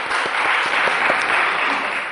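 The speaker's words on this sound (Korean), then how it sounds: "하나님께 영광의 박수를 돌리십시다." Church congregation clapping together, a steady, dense round of applause at moderate distance lasting a couple of seconds with no talk over it.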